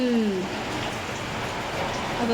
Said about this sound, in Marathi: इथे मस्तपैकी पाऊस पडतोय